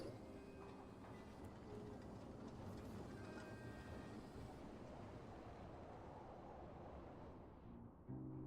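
A train rides along rails in the video game Genshin Impact, giving a faint, steady low rumble with light rhythmic clatter that continues evenly and then briefly drops near the end.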